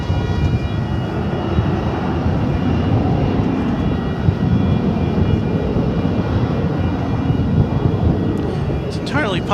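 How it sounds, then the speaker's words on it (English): A plane taking off at DFW Airport, a steady loud broadband jet roar that holds throughout, with faint talk mixed in beneath it. "There's a plane taking off."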